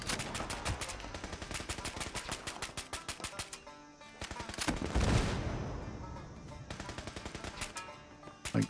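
Rapid bursts of explosive rounds from a gun in Fallout 76 crack in dense, rhythmic volleys, with a heavier blast swelling near the middle and then more sharp repeated shots, moderately loud and not overlapped by talk.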